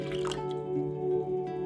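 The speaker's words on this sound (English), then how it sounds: "We can add our milk" Milk poured into beaten egg in a bowl, a soft, brief liquid trickle and drip heard close and fairly faint with a steady background hum.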